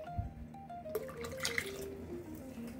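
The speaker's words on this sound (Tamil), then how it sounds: "இதில் கொஞ்சமாக தண்ணி விட்டுக்கலாம்" A little water is poured into Kandanthipili rasam in a pot, a close, quiet trickle with a rising filling tone and a few soft drips.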